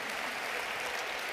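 Audience at a business growth conference breaks into steady applause, a dense even wash of clapping from a large crowd that fills the whole moment.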